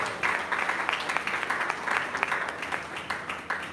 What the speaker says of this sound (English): please let us give a round of applause to the NDLA officer here.